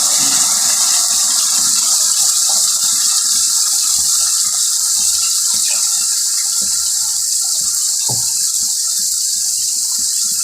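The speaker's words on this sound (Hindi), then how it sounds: "इसमें 2 गिलास पानी डाल देंगे।" Water is poured into fried masala in a pot for fish head curry, a loud, continuous hissing gush close by, steady for the whole stretch with no talk.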